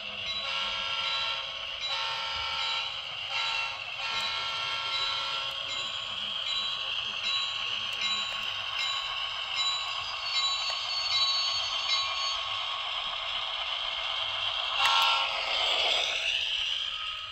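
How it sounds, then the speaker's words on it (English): Model diesel locomotive sound system from a Rapido, Walthers or Bowser model train, a steady droning engine with layered tonal hum and occasional bell-like chimes, close and continuous throughout with no talking. "Cool, that's a great sounding diesel."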